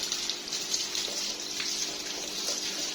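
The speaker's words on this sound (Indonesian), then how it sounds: "Untuk penyiraman saya menggunakan sistem kocor, menggunakan keran." Tap water pours from a hose onto orchids in an open garden, a steady splashing hiss with small irregular spatters, continuous and close.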